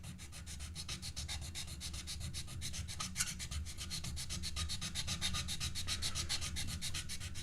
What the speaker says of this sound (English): Here, let me sand this down.